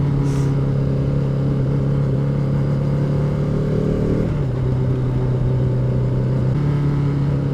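The engine of a 2015 KTM RC390 motorcycle drones steadily during a test ride, with its pitch dropping midway as the gearbox changes gear, loud and continuous with wind noise.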